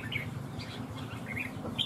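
Short bright chirps and tweets from a caged songbird, a six-month-old wild-caught bird, repeating in quick bursts over a low steady background hum.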